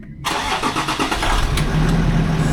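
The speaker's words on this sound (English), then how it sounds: "I thought you're gonna start the engine." A Land Rover Discovery 4 engine, freshly rebuilt, cranks briefly and catches, then settles into a steady, loud, close idle with no talking over it.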